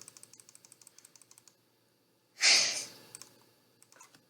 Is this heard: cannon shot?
no